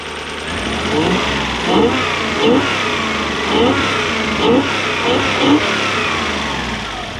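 A Toyota 1UZ-FE engine in a Toyota Surf or 4Runner idles close by and revs up repeatedly in short bursts, about five or six swells over the steady running.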